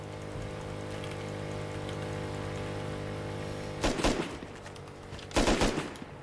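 Gunfire in the survival game Rust during a cargo ship event, two loud bursts of shots cutting through a steady droning hum, each a short rapid cluster with a pause between.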